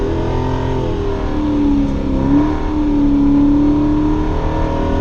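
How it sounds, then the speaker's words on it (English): Dodge muscle car engine held in first gear during a burnout with traction control off, a loud steady roar with sustained high revs and slight pitch wavering throughout, no voices. "I keep it in first gear during the burnout."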